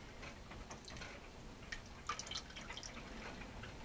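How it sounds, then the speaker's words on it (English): Excess whey from a batch of homemade ricotta drips steadily as it strains, a quiet patter of small irregular drops with no talking. "So now I'm just going to strain out all that excess whey"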